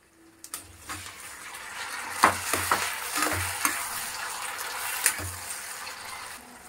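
Tomatoes go into a hot pan of spiced oil with Kashmiri red chili, green chili, black pepper and cloves for paneer butter masala, giving a steady close sizzle and frying hiss with a few soft stirring knocks.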